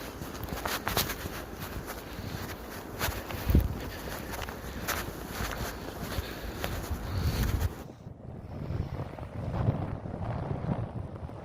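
Footsteps crunch steadily outdoors during a spring snow storm, steady wind buffeting the microphone throughout; the gusts ease after about eight seconds while the trudging continues more faintly.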